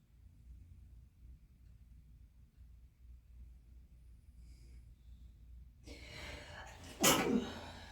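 After several seconds of near silence inside the West Virginia Penitentiary, a sharp sneeze bursts out close by, preceded by a quick intake of breath and followed by a brief exhale.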